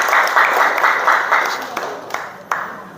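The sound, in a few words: class applauding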